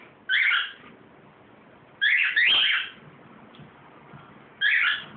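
A pet cockatiel whistles in short bright phrases, three close, clear bursts separated by pauses over a quiet indoor background.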